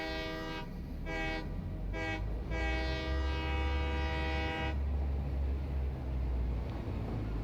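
A train in a video game rolls along its track with a steady low rumble, sounding two short horn toots and then a long sustained blast before the rumble carries on alone.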